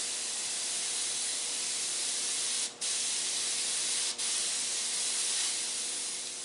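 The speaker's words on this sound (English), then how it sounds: "Taking your airbrush, spraying out a pattern about like this" An airbrush sprays paint in a steady broad hiss, laying down a bone-texture pattern on a skull and scorpion piece, with two brief cuts where the trigger is released before spraying resumes.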